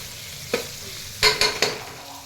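Curry leaves dropped into hot oil in a pan for khichdi, bursts of crackling sizzle with a few sharp pops over a low background hiss, close and without talk.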